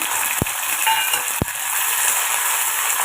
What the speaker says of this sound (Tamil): இதே ஒரு ரெண்டு நிமிஷம் எண்ணெயில் பூண்டை வதக்கி விட்டு எடுத்துக்கோங்க